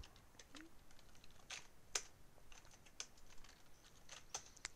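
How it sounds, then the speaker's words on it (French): Keys tapped on a computer keyboard in irregular bursts of light, quiet clicks while a word is entered into a website search, heard close and alone without talk. "Je vais taper par exemple Darty."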